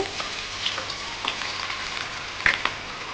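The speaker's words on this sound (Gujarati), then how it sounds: "લસણને તમે તેલમાં સાતળવાનું છે" Chopped garlic sautéing in hot oil for a Schezwan chutney made from fresh chillies, a soft steady sizzle with a few sharp pops and crackles near the end.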